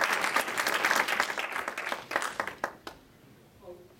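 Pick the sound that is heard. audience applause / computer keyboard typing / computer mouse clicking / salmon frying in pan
audience applause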